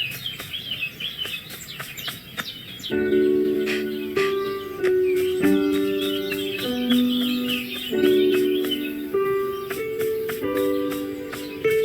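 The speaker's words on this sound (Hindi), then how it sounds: "आखिरकार हमें अपना खोया हुआ मुर्गा मिल गया है" A cartoon rooster clucks repeatedly in short, rhythmic tonal bursts, loud and close over light background noise.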